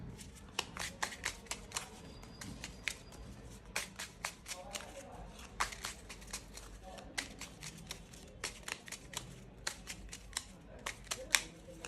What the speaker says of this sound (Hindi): ये भी कार्ड इसमें मिला लूंगी,